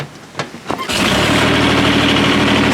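A farm lawn mower's small engine fires up after a couple of short pull-cord tugs, then settles into a loud, steady running drone close by.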